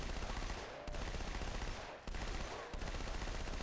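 SMG fire with the Halo 2 Anniversary sound effect in a video game comes as dense, loud automatic bursts that nearly fill the whole stretch, broken by two or three very brief gaps.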